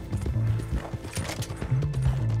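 Horse hooves clip-clopping in a steady galloping rhythm in Red Dead Redemption 2, close and loud, with a brief whinny-like tone over the game's music and ambience.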